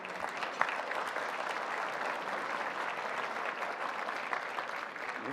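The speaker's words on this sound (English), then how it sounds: "How about a round of applause for a great couple of days that we've had?" An audience at a Heritage Foundation conference applauds, a sustained even wash of many clapping hands lasting several seconds, fairly distant and uniform with no talk over it.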